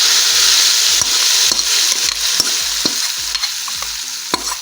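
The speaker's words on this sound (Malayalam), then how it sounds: "അതുകൂടി ഇട്ട് നമുക്ക് ഇളക്കി മൂപ്പിച്ച് കറിയിലേക്ക് എടുത്ത് ഒഴിച്ചു കൊടുക്കാം" Sardine chilli curry being finished with fried onion tempering: a continuous hot-oil sizzle runs throughout, punctuated by about ten sharp, regular stirring scrapes of the spoon against the pan.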